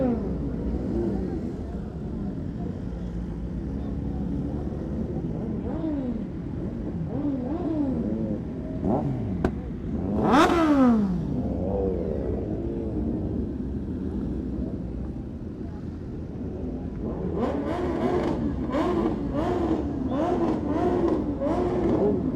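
Several superbike engines rev and roar past at a stunt show, pitches sweeping up and down, with one loud close rev in the middle and people talking throughout.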